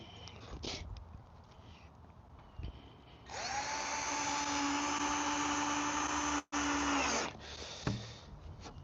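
A power drill drives screws into a wooden sandbox frame, a steady whirring spin lasting a few seconds with a brief stop, amid quieter handling noises before and after.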